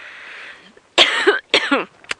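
Two harsh, close coughs in a row during an outdoor sunrise safari drive, each a rough wheezing burst, after a faint hiss and followed by a short throaty catch.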